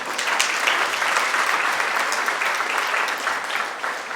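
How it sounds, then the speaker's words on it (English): An audience at a gala applauds volunteers with steady, sustained clapping from many hands, even and fairly loud throughout. "Can we have a round of applause for our volunteers today?"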